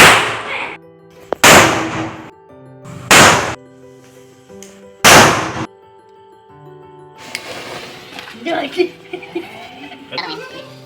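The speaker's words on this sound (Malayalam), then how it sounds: "ആ പടക്കമൊക്കെ പൊട്ടിക്കാൻ സ്റ്റാർട്ട് ചെയ്തിട്ടുണ്ട്" Several sharp, loud firecracker bangs go off close by in quick succession during Eid celebrations, followed by scattered crackling pops and bits of background chatter and laughter.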